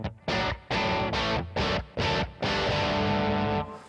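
Guitar through a Yamaha THR amp on its crunch setting with the master volume at half: choppy, overdriven chord strums in short bursts, then a longer sustained chord, moderately loud and close, with no voice.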